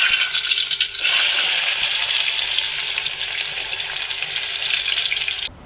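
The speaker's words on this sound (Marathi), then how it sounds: "पहिलं थोडासा कांदा टाकतो." Onion dropped into hot oil hisses into a strong, bright sizzle that stays loud and steady for several seconds before cutting off abruptly near the end; no one speaks.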